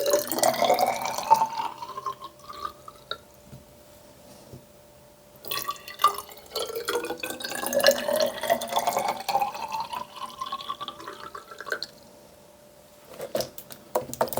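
Water running from a tap into 100 ml and 50 ml measuring cups, a steady close stream in two fills with rising pitch as each cup fills, separated by a short pause.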